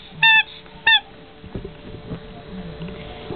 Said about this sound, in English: squeaky ice cream